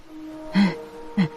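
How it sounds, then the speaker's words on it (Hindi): Two short, sharp breaths, like someone panting, spaced about half a second apart against a quiet background. "पंडित जी ने हांफते हुए कहा"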